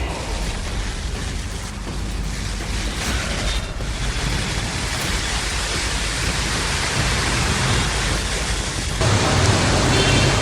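Heavy monsoon downpour in Delhi, a dense, steady roar of rain that holds at a constant loud level throughout, with no voices.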